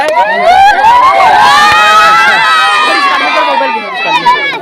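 A large crowd roars and cheers at a village kabaddi tournament in Karambhad, continuous loud shouting and whooping voices layered densely together, close and sustained.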